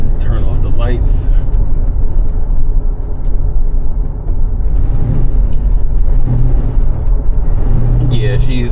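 A 1970 Chevelle Malibu's engine rumbles low and steady while driving, a close, continuous drone that swells slightly at times, with people talking over it throughout.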